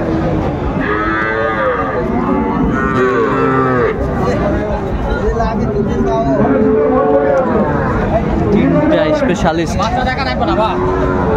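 Cattle moo repeatedly amid a busy crowd at a Chittagong cattle market selling Sahiwal calves, long drawn-out lowing calls overlapping with chatter and general market hubbub.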